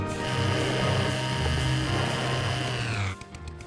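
A chainsaw in the video game Serious Sam: Portals revs in a sustained, buzzing drone of steady mechanical whine, cutting off abruptly near the end, with no talk over it.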